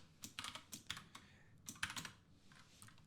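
Typing on a computer keyboard during a Kotlin and Spring Boot coding session: close, quiet bursts of clicking keystrokes with short pauses between runs.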